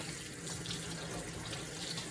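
Tap water runs steadily into a kitchen sink while meat is rinsed, a soft continuous splashing hiss heard alone at low level.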